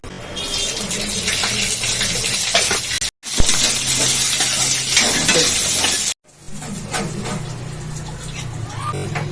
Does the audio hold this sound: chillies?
yes